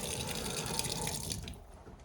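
Spring water runs from a tap at an off-grid sauna, a steady close hiss of flowing water that thins and fades toward the end.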